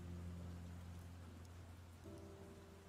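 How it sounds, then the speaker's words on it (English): Steady rain plays as background during a game stream, a dense even hiss throughout with low droning tones underneath and no talk. "you guys were just listening to rain the whole time"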